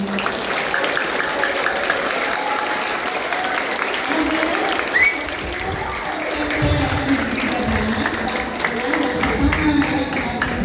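An audience at a Monday school flag ceremony claps in sustained, dense applause, a steady outdoor roar of many hands close by, with voices calling out beneath it.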